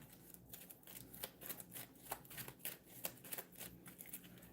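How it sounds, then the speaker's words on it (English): Cards riffled and shuffled by hand during a solo Kinfire Delve board game, a steady run of soft papery flicks and snaps, close and fairly quiet, with no talking. "Shuffle this card back into the exhausted deck."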